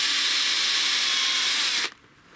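A power tool cuts through damp oak, a steady loud broadband whine that labours through the tough wood for nearly two seconds before abruptly stopping, leaving quiet room tone.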